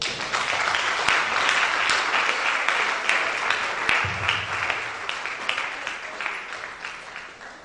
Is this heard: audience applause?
yes